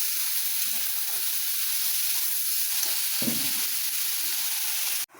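Ridge gourd slowly frying uncovered in a pan, a steady soft sizzle that runs evenly throughout, with one brief clatter of stirring near the middle, then cutting off abruptly at the end.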